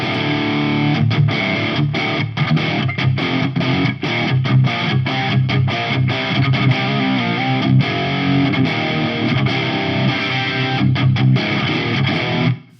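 Heavily distorted electric guitar riffing through a Quad Cortex amp modeler preset, dense and loud with choppy palm-muted stops, close and continuous, no voices.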